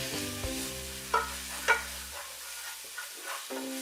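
Cumin, coriander and paprika powders are stirred and frying in a pan for a yoghurt eggplant curry. A soft sizzle runs under a few quick spoon scrapes and clinks, heard close and without speech.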